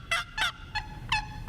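A handheld turkey call device imitates a hen turkey with a quick series of four sharp, nasal yelps, close and clear against a quiet background.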